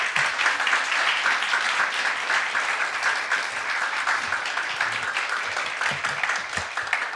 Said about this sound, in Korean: 우리 목사님 나오실 때 따뜻한 환영의 박수 부탁드리겠습니다.